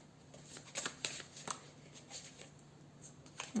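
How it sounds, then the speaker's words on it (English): A deck of tarot cards is shuffled close by, soft riffling and a string of light card snaps, quiet, with no voices. "Let's shuffle some more."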